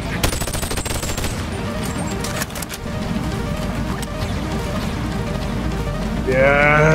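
Rapid automatic gunfire in the VR game Boneworks, a dense rattling burst of shots that continues steadily, then a swell of loud warbling noise near the end.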